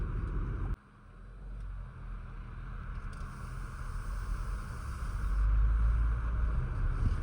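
A car drives along at a steady pace, its engine and road rumble continuous and close, with a sharp dip near the start and a heavier low-end surge toward the end, no talking.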